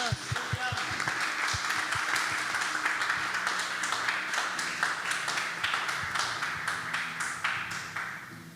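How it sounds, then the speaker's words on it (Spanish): Church congregation applause rolls on as an even patter of many hands, with a few sharp low taps early on and voices calling out over the clapping. "¿Cuánto dar un aplauso al Señor?"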